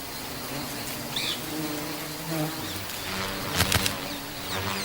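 Bees buzz steadily around Bombax flowers as they gather nectar, a continuous close hum with a few louder passes and wingbeats nearby.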